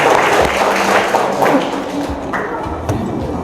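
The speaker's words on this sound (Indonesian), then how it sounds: "beri tepuk tangan untuk kelompok satu" A classroom of students claps for the first group after its presentation. The clapping is close and fairly loud, with a few hard taps and thuds mixed into the scattered clapping.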